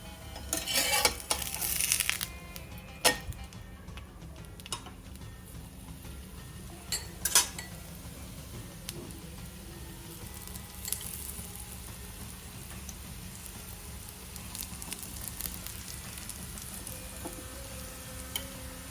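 Food crisping on a pan for a Mahashivratri fasting meal, a steady low sizzle throughout, broken by occasional clinks and scrapes of utensils, with a few louder clatters early on.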